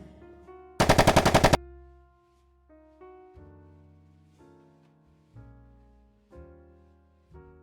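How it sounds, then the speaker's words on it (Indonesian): Automatic gunfire erupts during a film chase scene: one loud, rapid burst of about a second, with shots in tight succession, followed by quieter tonal music and scattered low hits. "Aksi kejar-kejaran dan tembak-menembak pun terjadi."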